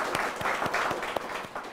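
Studio audience applause during a TV business show, dense steady clapping from a crowd throughout, fairly even in level with a few sharper individual claps standing out.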